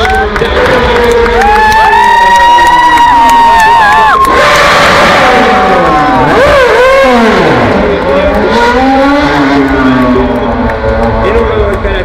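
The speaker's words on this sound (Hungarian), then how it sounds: "a közönség tapsban tört ki" A loud street crowd cheers and shouts for Jenson Button in a city centre, a dense wall of voices with rising whoops and yells near and far, a race car's engine note sweeping through the noise.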